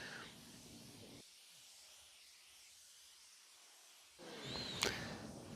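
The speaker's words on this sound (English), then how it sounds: "And there I'm just fogging in a dust coat there." A paint spray gun hisses as it fogs a dust coat onto a car panel, a soft airy burst at the start and a louder one near the end, with a quieter pause between.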